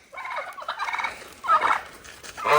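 Turkeys gobble in several loud, rattling bursts close by, one flock calling over another with short pauses between.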